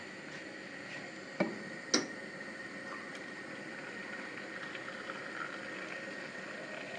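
Hot brine poured into a jar packed with cucumbers, a faint steady trickle and gurgle with two sharp glassy clinks near the start.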